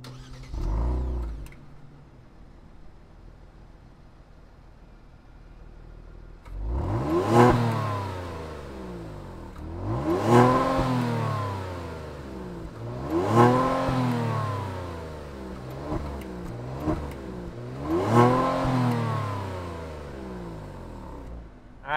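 A 2022 Kia Stinger GT Scorpion Edition sport sedan fires up with a short starter burst, idles quietly, then gives four loud, evenly spaced revs that climb and fall back, recorded close and outdoors without talk.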